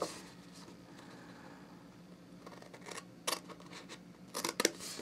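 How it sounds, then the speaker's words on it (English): Scissors cut through cardstock up to a score line for a small handbag craft, quiet background giving way to a few close, crisp snipping bursts near the end, with no talking. "we need to cut until we reach that first score line"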